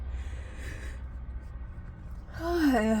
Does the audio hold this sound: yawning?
yes